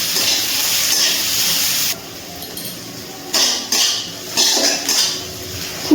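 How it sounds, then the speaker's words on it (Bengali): Chopped onion fries in oil in a pan, a loud hissing sizzle broken by scraping stirs and metal clinks of the spoon against the pan, with no one speaking. "এবার দিয়ে দিচ্ছি একটা কেটে রাখা পেঁয়াজ। খুব ভালো করে তেলের মধ্যে পেঁয়াজটা ভেজে নিচ্ছি।"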